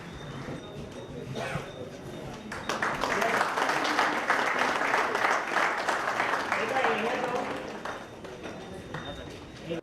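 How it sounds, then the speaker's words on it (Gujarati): Audience applause welcoming a birthday honoree at a community event in a Mumbai hotel hall, steady clapping swelling after a couple of seconds and filling the room, with faint chatter underneath. "અમિતભાઈને આપણે તાળીઓથી વધાવીએ."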